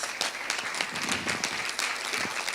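Audience applause in a hall at a school forum on marine litter, greeting a prize-winning group; steady dense clapping throughout, moderately loud and without talk.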